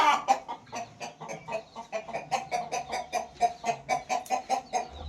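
Chickens cluck steadily in a coop with chicks kept beside them, a dense run of rhythmic, overlapping clucks at close range with no talk over them.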